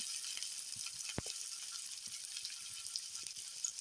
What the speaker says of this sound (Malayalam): ഒന്ന് വഴറ്റി കൊടുക്കുക, സവാള വഴറ്റി കൊടുക്കുക